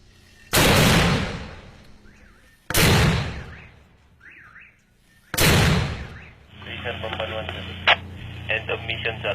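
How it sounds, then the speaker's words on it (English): Marines fire a mortar three times, each launch a loud close boom that decays slowly, with brief radio-like chatter between shots and overlapping voices and noise at the end. "they're just about to send this mortar into enemy territory"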